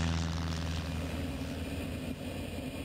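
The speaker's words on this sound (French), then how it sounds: "Le temps pour l'avion remorque de mettre le planeur sur orbite." A tow plane pulling a glider aloft during a gliding initiation flight near Reims, its propeller engine droning steadily and loudly throughout with a constant low hum.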